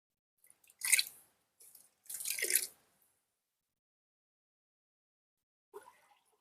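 Liquid flowering-plant fertilizer, about 40 ml, poured into a container, giving two short close splashy pours followed by a faint drip near the end.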